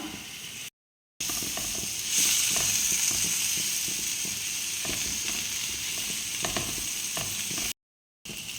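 Sliced tomatoes fry with onions in a pan for a prawn roast, giving a steady sizzle with rapid clicking, crackling bursts. The sound cuts out briefly near the start and again near the end.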